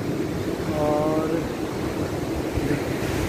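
Ocean waves wash onto a deserted Bay of Bengal beach near Chilika, a broad rumbling surf with wind buffeting the microphone, steady and close throughout.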